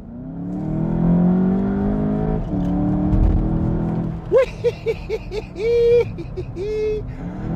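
A VW Jetta GLI engine drones steadily as it accelerates in Sport mode, with an upward sweep that then gives way to a series of short, sharp bursts and higher notes. Someone speaks briefly over it.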